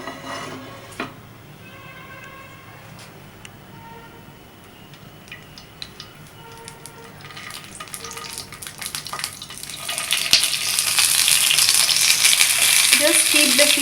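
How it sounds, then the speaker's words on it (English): Stuffed tomatoes hit two spoons of heated oil in a pan. After scattered small clinks and ticks, a sizzle builds and turns into a loud, steady frying hiss near the end. "Now we have stuffed the tomatoes and ready to saute them"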